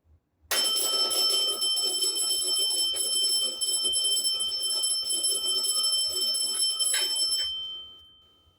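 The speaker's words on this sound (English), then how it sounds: "you're gonna hear the bell on this" A fire alarm bell rings continuously and loudly for about seven seconds with a rapid metallic clatter, then stops and its tone fades away.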